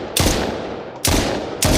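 Three loud, sharp gunshots go off about a second apart in a zombie shooter video game, each blast trailing a short decay.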